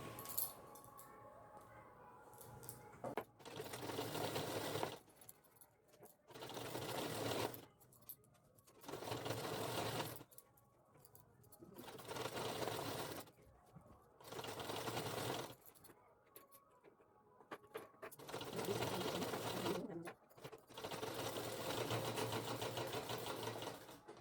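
A sewing machine stitches a lehenga waistband with pleats beneath it, running in repeated bursts of rapid mechanical whirring separated by short pauses, close and steady.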